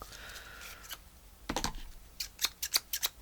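Art-journaling scissors sticky with glue are handled, then snip paper in a quick run of sharp, crisp cuts, close up and clear with no talking.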